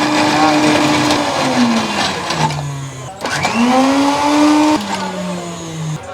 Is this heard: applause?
no